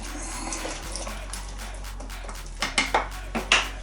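A spoon scraping and clinking in a pot of Polish fasolka po bretonsku, a bean stew, over a steady low hum, with a few sharp metallic knocks near the end, close and moderately loud, no talking.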